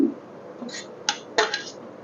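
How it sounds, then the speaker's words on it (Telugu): A pestle pounds fried garlic, green chili, curry leaves and cumin for a tomato chutney, giving a few sharp, separate clinking knocks over a quiet background. "వెల్లుల్లిపాయి పచ్చిమిర్చి కరివేపాకు జీలకర్ర ఇవి దంచేద్దాం"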